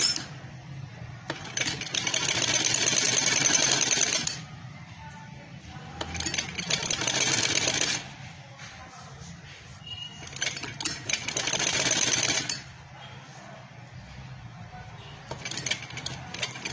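A sewing machine stitches fabric in three loud running bursts of rapid whirring, separated by pauses in which someone talks quietly, then a short final burst.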